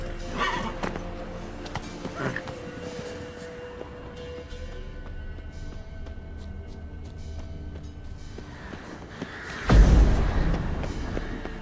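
Roach the horse in The Witcher 3 runs with faint hoof clatter and a neigh or snort, then a louder burst of movement near the end, all without speech.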